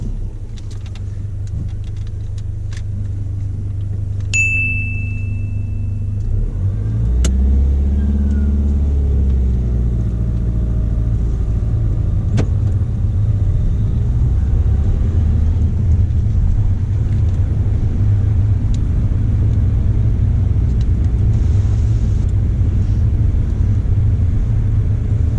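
A car starts during a driving test, with a short high whine and then a steady engine rumble that holds as it pulls away and drives on, close and loud throughout.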